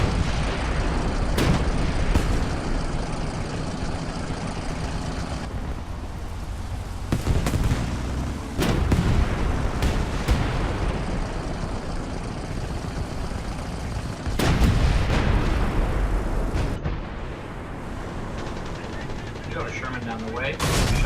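Dense, sustained gunfire from a War Thunder tank battle, with loud cannon and machine-gun bursts, blasts and explosions over a constant roar of engines and battle noise, and several sharp peaks of heavy fire throughout.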